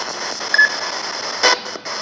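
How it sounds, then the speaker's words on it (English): Hissing spirit box radio static sweeps along with brief crackles and a louder burst near the end, no voices coming through. "we're going to give the spirit box a go in here"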